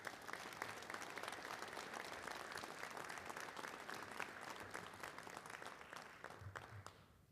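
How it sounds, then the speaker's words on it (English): Applause from the audience at a high school Hall of Fame induction ceremony, a steady, dense wash of many hands clapping at a distance, fairly faint and sustained for several seconds before fading out. "Let's give them a round of applause."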